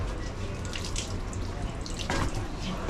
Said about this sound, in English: my man over here is taking a shower.